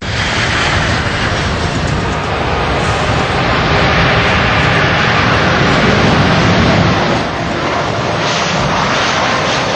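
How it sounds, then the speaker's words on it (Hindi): An Airbus A380 super jumbo jet roars with a loud, steady, broadband engine rumble that holds close and constant throughout. "ये सुपर जंबो एयरक्राफ्ट बोलते हैं, दुनिया का सबसे बड़ा पैसेंजर एयरक्राफ्ट है"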